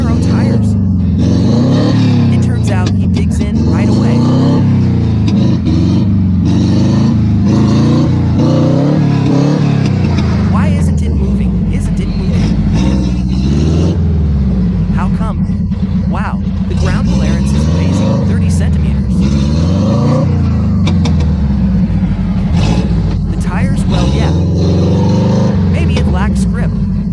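A Lada 4x4 on narrow tires grinds through deep mud off-road, its engine roaring and revving hard and continuously as the wheels dig in, with voices at times beneath the engine noise.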